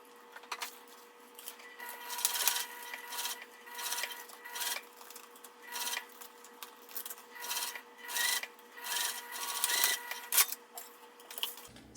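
A sewing machine top-stitches fabric from one edge to the other, a soft rhythmic rasping whir in short pulsing runs, close and fairly quiet, without talk.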